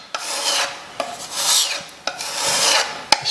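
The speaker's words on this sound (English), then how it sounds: "just scraping it over to fill in any gaps" A filler knife scrapes wood filler into gaps along a wooden skirting board in three long rasping strokes, each beginning with a sharp tap. The scraping is close and fairly loud, with no voices.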